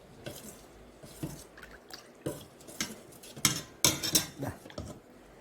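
A spoon stirs ragi powder mixed with jaggery syrup in a vessel, giving soft wet sloshes and scrapes with sharper clinks against the rim in irregular strokes.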